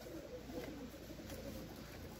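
Young tumbler pigeons coo softly inside a loft, a faint, low murmur of calls over a quiet background.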